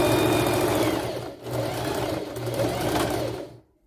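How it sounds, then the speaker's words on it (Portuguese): A sewing machine runs steadily for about three and a half seconds, stitching a small piece of fabric along a marked line for a rolled border hem, then stops abruptly into silence. "Aí você vai olhando o risco, posicionando o paninho aqui em cima e passa a costura."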